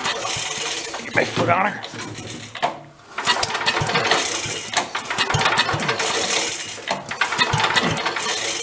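An abandoned vintage Mite-e-Lite generator being pull-started, with repeated loud rope-pull chugs and sputtering engine bursts that do not catch, a short pause between attempts, and someone speaking briefly close by.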